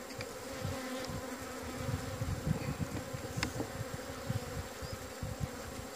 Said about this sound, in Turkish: Rüzgar esmeye başladı, arı huysuzlanmaya başladı.